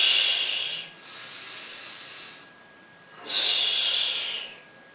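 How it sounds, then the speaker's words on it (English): Forceful breaths during a yoga core crunch exercise: two loud, hissing exhales, one at the start and one about three seconds later, with a quieter breath in between and no talking. "Exhale on the way up."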